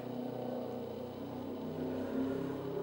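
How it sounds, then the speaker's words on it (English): A motorcycle passes outside, heard faintly and from a distance indoors as a low engine drone that swells and rises in pitch near the end of the short stretch. "There goes a motorcycle."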